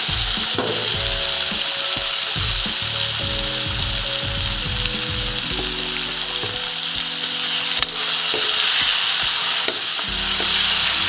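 Eel fish frying and being stirred in a hot pan for an eel curry, with steady loud sizzling and repeated scraping stirs throughout, no talk.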